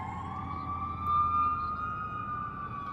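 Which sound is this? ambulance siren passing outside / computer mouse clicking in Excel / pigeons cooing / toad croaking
ambulance siren passing outside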